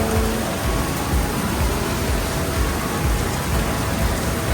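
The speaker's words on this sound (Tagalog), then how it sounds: "Lakas ng ulan o." Heavy rain pours steadily in Marinduque, Philippines, a dense loud hiss of drops pattering on surfaces with no break.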